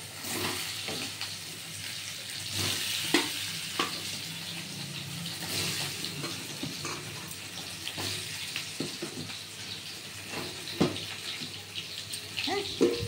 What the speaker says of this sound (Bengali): এই যে আলুটা মেখেছি, এবার ছেড়ে দিলাম। বেশ লাল করে কিন্তু ভাজা হবে।